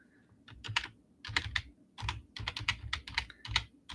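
Quick bursts of keystrokes on a computer keyboard type out a live chat comment, close and clear, in uneven clusters with short pauses between.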